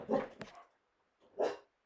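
A dog gives two short, close barks about a second apart, with quiet between them.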